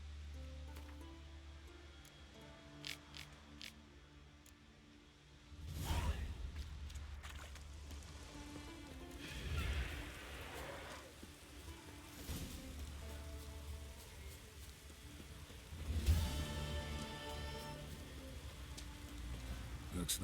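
Steady rain hisses through The Witcher 3 game world, a continuous wash with occasional louder swells and rumbles, no speech over it.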